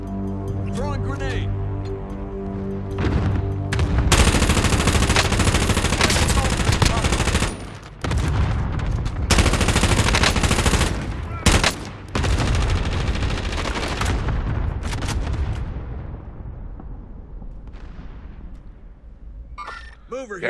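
Rapid bursts of automatic gunfire and explosions from a Call of Duty: Warzone match rattle almost continuously, loud and dense, with brief dips between volleys and game voice callouts mixed in.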